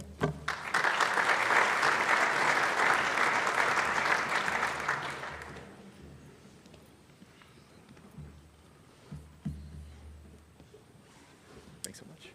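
An audience applauds a speaker at a school speaker-series event, steady clapping for about five seconds that then fades into quiet room shuffling and a few knocks.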